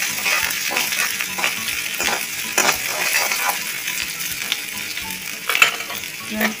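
Ginger-garlic paste with turmeric, chili powder and finely chopped green chilies frying in a pan, a soft sizzle broken by repeated scraping and clinking stirring strokes, close and moderately quiet.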